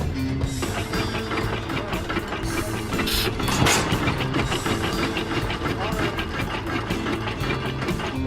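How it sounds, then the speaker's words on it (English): Antique hit-and-miss gas engine running unloaded at an outdoor gas engine show, firing only now and then as the governor calls for speed, with a steady mechanical clatter throughout and voices in the background. "right now it's firing only when the RPM is called for on the governor end"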